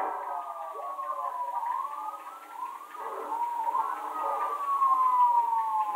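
A wailing police siren in Grand Theft Auto V rises and falls in repeated sweeps, fairly distant and steady, with no talking over it.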